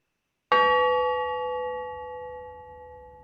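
A single bell strike opening a Rotary Club meeting on Zoom, one clear ring with a bright onset and a long sustained tone slowly fading, heard alone with no talking.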